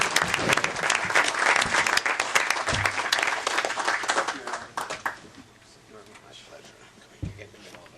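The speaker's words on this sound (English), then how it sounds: "So just ask for a round of applause for Danny." Applause fills a board meeting room at an MTA Metro-North/LIRR committee session, loud and dense for about five seconds before thinning out, with a few voices mixed in near the end.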